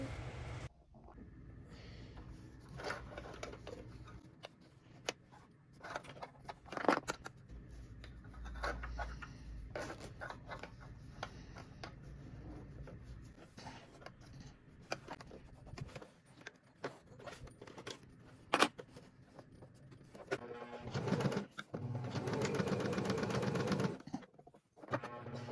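Sewing machine running in bursts while stitching the cover of a nursing pillow, with steady mechanical whirring broken by short pauses, handling rustles and small clicks, close up and alone.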